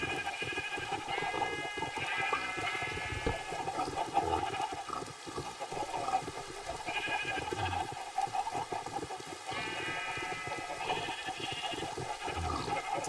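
Sheep bleat repeatedly in a Minecraft farm scene as animals are herded toward pens, harmonic cries recurring every few seconds over a steady bed of game sound and water-like noise.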